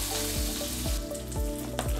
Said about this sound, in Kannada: ಸಾಸಿವೆ ಚಟ ಚಟ ಹೇಳ್ತಾ ಇದೆ.